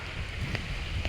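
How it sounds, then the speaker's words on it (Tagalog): Strong wind buffets the microphone outdoors during a harvest, a continuous low roar with small gusts and no voices. "Lakas pa ng hangin."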